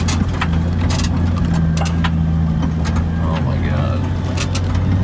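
Off-road vehicle with near-bald all-terrain tires crawling up a steep slope in first gear at quarter throttle, a steady low engine drone throughout with a brief excited voice over it.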